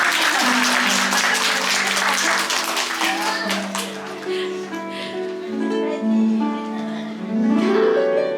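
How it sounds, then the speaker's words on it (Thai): Loud, dense applause from guests at a Thai engagement ceremony, clapping steadily and close for several seconds while a host speaks over it and music plays underneath. "ขอเสียงปรบมือดังๆคุณนะคะ"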